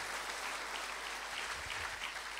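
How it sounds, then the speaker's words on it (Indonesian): A church congregation claps together in a dense, continuous burst of applause during a worship service, steady and fairly distant throughout. "Kasih tepuk tangan bagi Tuhan itu."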